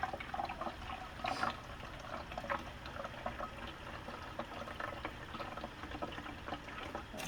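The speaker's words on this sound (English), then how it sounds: "I'm just going to put a little bit of water here" Water trickles and splashes softly into a lab container, a faint, uneven pouring sound with small gurgles, close but quiet and without talking.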